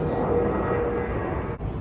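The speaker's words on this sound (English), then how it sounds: "Oh, there's another plane." An airplane passing overhead outdoors in New York gives a steady, broad engine rumble that holds throughout, fairly loud and continuous, with a brief dip near the end.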